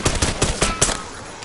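Pistol shots ring out in Call of Duty Black Ops 6 zombie mode, five sharp, loud reports fired in quick, evenly spaced succession, then a short trailing fade.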